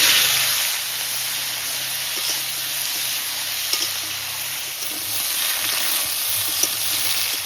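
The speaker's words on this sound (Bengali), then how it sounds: "এবার কেটে রাখা সবজিগুলো দিয়ে দেবো" Chopped vegetables fry in hot oil with a few cumin seeds in a wok, giving a steady broad sizzle with faint stirring clicks throughout, no voices.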